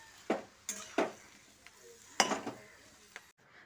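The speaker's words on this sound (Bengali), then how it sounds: "নুন আর হলুদ গুঁড়োটা দিয়ে শাকের সঙ্গে হালকা হাতে মিশিয়ে নিচ্ছি।" Gourd greens being tossed with salt and turmeric in a pan, heard as a few sharp utensil clinks and scrapes spread across a quiet background, with no voices.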